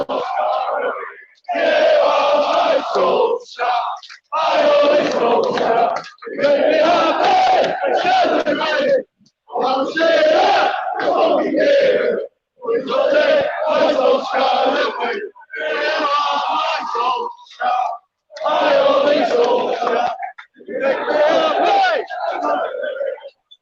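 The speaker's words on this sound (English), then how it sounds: "People on top, cheering, happy, and as you can see and hear, it's infectious." Football fans at a protest outside Old Trafford, Manchester United's stadium, chant and cheer loudly in sustained rhythmic bursts, a dense crowd roar with short pauses between chants.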